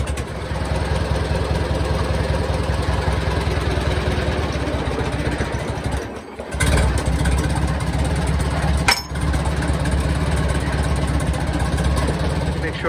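A Farmall Super C tractor engine idles steadily in a garage, a loud, continuous low chugging rumble that dips briefly twice, with someone talking over it at times.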